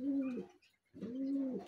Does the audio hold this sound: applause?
no